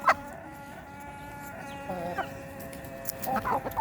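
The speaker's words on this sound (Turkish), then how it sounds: "Buradakilerin hepsi siyah tavuğun Dilber'in kızları" Chickens cluck softly nearby in a few short bursts over quiet farmyard background.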